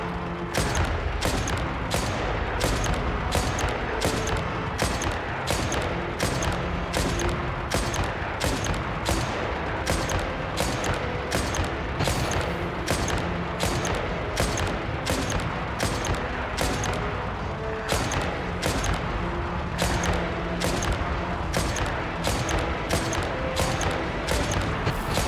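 Rapid, evenly spaced gunfire shots ring out in a video game, a long steady barrage of sharp cracks repeating about twice per second, loud and close over a continuous background din.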